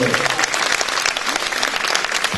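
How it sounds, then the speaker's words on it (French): A gala crowd at a queens' pageant bursts into loud, dense applause, a continuous thunder of claps filling the whole short stretch. "Alicia Souza, tonnerre d'applaudissements"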